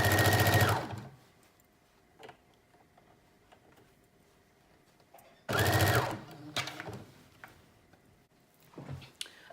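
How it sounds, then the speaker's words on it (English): Sewing machine running close up, stitching the edges of a teddy bear jacket with a 5/8 inch seam, in two loud steady runs with a pause of soft handling noises between them. "you're gonna sew all of your edges in a 5/8 inch seam"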